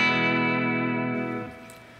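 An electric guitar run through the Amplitube 4 amp simulator rings out one sustained, harmonically dense chord that fades after about a second and a half, close and alone.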